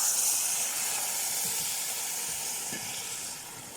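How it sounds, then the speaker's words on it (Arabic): Hot water poured into a pot of freekeh with chicken, giving a steady loud hiss and sizzle of steam with faint bubbling underneath, fading slightly toward the end. "وبالشكل ده كده حبايبي ابتدي انزل بقى بالميه السخنه بتاعتي"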